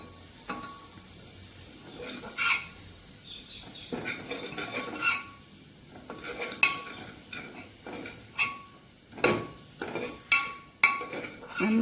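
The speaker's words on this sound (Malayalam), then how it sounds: "കുക്കറിൻ്റെ അടി പിടിക്കാതെ ഒന്ന് ഇളക്കി കൊടുക്കുക" Spices are stirred in a pressure cooker with a metal spoon, giving intermittent scraping and clinking strokes against the pot over a soft sizzle, growing louder and more regular toward the end.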